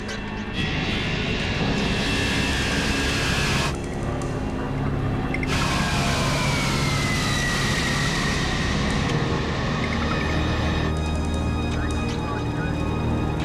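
Aircraft engines throttle up for takeoff on a runway, a loud broadband roar with rising whine that builds and holds steady for several seconds, shifting in tone as power increases.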